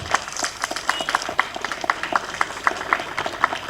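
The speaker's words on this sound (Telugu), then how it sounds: "సో ఆమెను గట్టి చప్పట్లతో ఆహ్వానిస్తున్నాం." Audience applause at an outdoor statue unveiling ceremony for a dance master, dense rapid clapping from many hands, close and continuous for the whole stretch.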